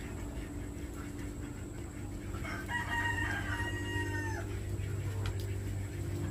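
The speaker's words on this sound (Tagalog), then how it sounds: "Tumitilaok na rin ang manok." A rooster crows once at a distance at dawn, a drawn-out call rising over a low steady background hum.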